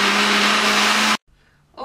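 A blender blitzes yellow mustard and cheesy sauce ingredients for an asparagus pasta bake, a loud, steady whirring roar that cuts off abruptly, followed by brief quiet and a faint clatter.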